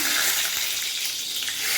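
Hot oil sizzles and crackles loudly as chilies fry, a bright hissing spatter that carries on without pause.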